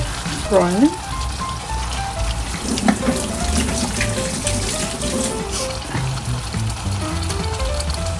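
Wet sizzling and bubbling as prawns fry in chili paste in a pan, with running water and clattering, a few faint tonal squeaks early on.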